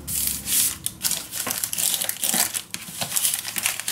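Paper for a scrapbook mini album page crinkles loudly and close up as it is folded in half, with continuous crackling rustles and several sharper crunches and no talking.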